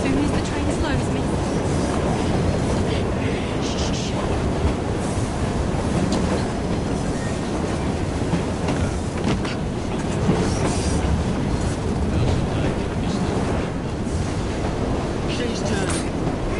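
A train rolls continuously through a video game scene in Assassin's Creed Syndicate, giving a dense, steady rumble with rattling clatter throughout, with voices faintly underneath.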